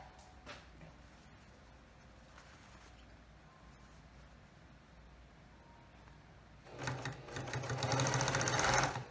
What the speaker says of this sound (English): I am going to put my sewing machine foot down. I put 1 stitch into the fabric, and I am going to start to sew.